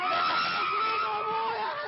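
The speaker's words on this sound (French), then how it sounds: "Des hurlements de stupeur et de douleur" Screams of shock and pain from people in Baghdad just after a car bomb explosion, a loud sustained wail of several voices with crowd commotion, continuous throughout.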